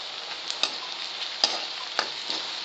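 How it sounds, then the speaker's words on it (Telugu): Onions frying with fennel seeds in a pan for a curry, a steady soft sizzle with a few brief clinks and stirring scrapes spread through it, close and moderately quiet with no talk. "చూస్తున్నారా ఆనియన్స్ ఎలా కుక్ అవుతున్నాయో?"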